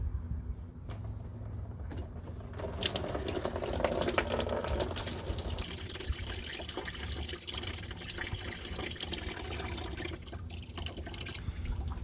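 Coolant draining from the cooling system of a 1994-1996 Cadillac Fleetwood engine during a thermostat change, a steady close trickle and splash of liquid running continuously without talk.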